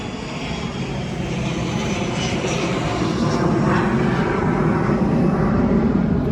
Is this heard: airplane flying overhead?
yes